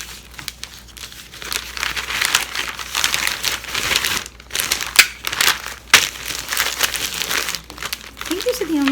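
Tissue paper crinkles and rustles close by while resale orders are packed, with dense bursts of crumpling and crackling continuing throughout the stretch and brief pauses between handfuls.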